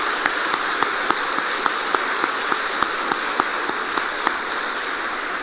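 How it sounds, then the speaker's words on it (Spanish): Church congregation clapping together in a dense, steady wash of applause with sharp individual claps standing out in a regular rhythm, fairly loud and close with no voices over it. "dele fuerte el aplauso al Señor"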